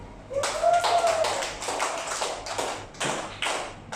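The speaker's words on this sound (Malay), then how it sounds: "beri tepukan untuk dia" Children in a Year 2 classroom clap for a classmate in a quick burst of scattered, close applause lasting a few seconds, with a voice briefly audible at the start.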